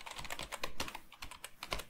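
A password is tapped out on a computer keyboard during a Linux Mint install in VirtualBox: a quick, uneven run of close, crisp key clicks with short pauses between them and no speech.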